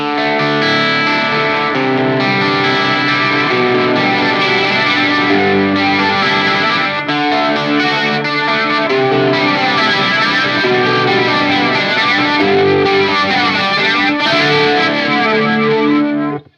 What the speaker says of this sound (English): we'll turn it up and you'll hear the flanger coming through